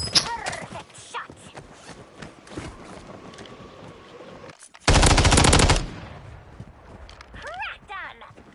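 A loud, dense burst of automatic gunfire lasting about a second in the Black Ops 6 video game, with game sounds and speech before it and short chirping effects afterward.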